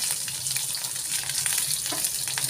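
Lengthwise-sliced half onion and curry leaves fry in hot oil, giving a dense, even sizzle close up with faint stirring crackle throughout and no voices.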